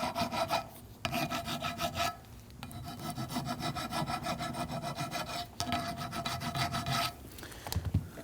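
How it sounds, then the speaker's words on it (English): A flat file scrapes back and forth over rusty metal on rear brakes of a 2013-2019 Ford Police Interceptor Utility in steady rasping strokes, close up, with short pauses between passes. "go ahead and grab a flat file. Clean up that rusty debris."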